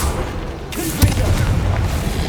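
A Confringo fire spell blasting in Hogwarts Legacy, one sharp booming explosion about midway, preceded by a whooshing cast and followed by a rumbling tail, over steady game ambience.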